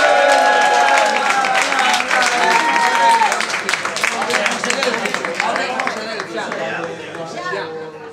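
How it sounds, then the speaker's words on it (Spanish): Patrons in a bar cheer a contestant at a guitar solo competition, clapping and lively chatter heard over loud ongoing music that fades slightly toward the end. "Noel, forte aplauso."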